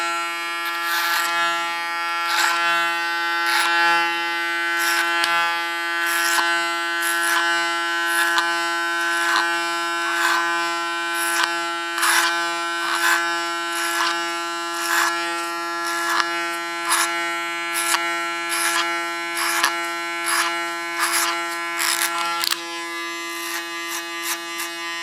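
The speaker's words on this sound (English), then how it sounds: "Put my clipper in the sharpest position and work till I get a little bit over the center line of our skull." An electric hair clipper set to its shortest position cuts ultra-short hair on a woman's head, producing a close, steady tonal buzz with repeated rhythmic crisp cutting bursts as it passes through the hair.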